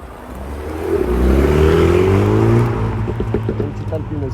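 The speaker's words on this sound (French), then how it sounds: "Sympathique accélération. Un beau petit RS6" An Audi RS6 accelerates hard along a Paris street, its engine note climbing loudly and close by, then easing off as it pulls away.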